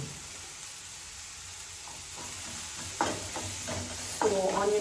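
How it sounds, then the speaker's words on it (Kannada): Onions fry in a pan with a pinch of salt for a chicken hariyali, giving a steady, low sizzle with occasional stirring scrapes that grow a little louder toward the end. "ಸೊ ಆನಿಯನ್ ಫ್ರೈ ಮಾಡಬೇಕು."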